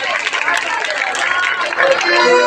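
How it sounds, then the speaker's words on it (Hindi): Audience at a Ramlila performance in Faridabad applauding loudly, a steady dense wash of clapping and crowd noise throughout, with murmuring voices mixed in. "जोरदार तालियां बजा दो, जोरदार।"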